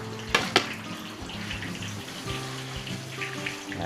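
Water poured into a pot of Filipino sinigang, a short splashy gush near the start settling into a steady low running flow, no voices over it.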